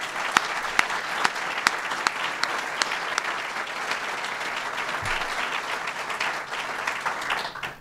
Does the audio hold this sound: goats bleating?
no